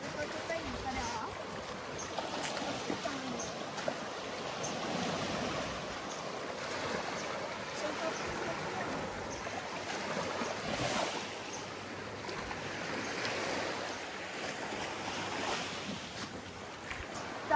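Sea waves washing onto a beach, a fairly faint, continuous surf rush with gentle swells rising and falling, and a person talking over it.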